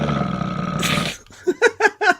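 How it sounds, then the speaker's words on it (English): A wet, burp-like fart sound effect dropped in as a gag, with a sustained rumbling blast followed by a few short, gurgling bursts in quick succession, loud and alone. "that one kind of sounded like a wet fart a little bit."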